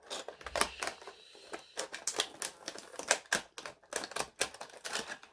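A blade slices through plastic toy blister packaging around a Masters of the Universe Origins figure card, a quick run of sharp crackling cuts and snips, close and fairly quiet, with no talking.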